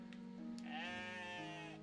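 Sheep or goat bleating in the video game OneShot, a single long wavering bleat with a rich buzzy tone, fairly close and alone.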